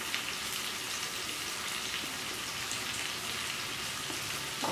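Chicken pieces go into a pan of frying masala, giving a steady, dense sizzle that holds evenly from start to finish with no talking.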